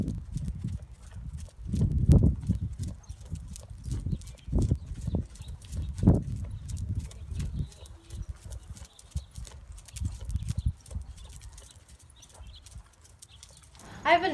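An unstarted three-year-old horse getting used to side reins moves with soft, irregular hoof clip-clops and thuds, some louder than others, over a quiet background across the whole stretch.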